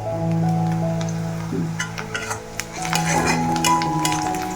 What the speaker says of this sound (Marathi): मी त्याच्यामध्ये हे कोकम टाकते तेलावर